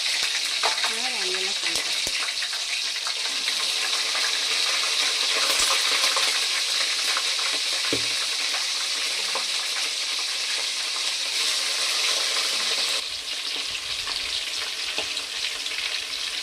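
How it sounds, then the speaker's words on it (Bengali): Mutton pieces fry in hot oil in a pan for a kosha mutton dish, giving a steady, close, continuous sizzle with occasional stirring scrapes throughout, and no one speaks. "আগে মাটনটাকে ফ্রাই।"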